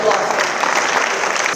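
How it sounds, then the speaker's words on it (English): Loud, dense applause from a gathered audience at a community event, continuous clapping for under two seconds. "Please, once more, a final round of applause."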